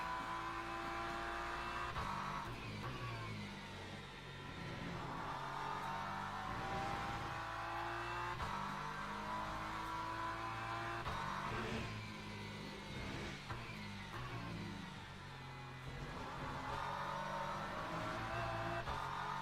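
Hypercars racing at Silverstone in a WEC endurance race, loud engine roar rising and falling through gear changes and passes, continuous high-pitched revving throughout.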